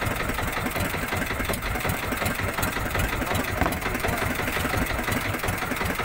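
A fishing boat engine idles in a constant, rough rumble with a steady vibrating drone and no break.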